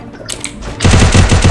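A rapid burst of video game gunfire starts partway through, loud repeated shots after a quieter opening.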